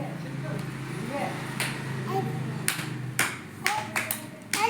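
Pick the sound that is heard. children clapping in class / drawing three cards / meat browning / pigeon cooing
children clapping in class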